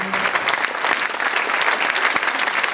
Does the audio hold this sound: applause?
yes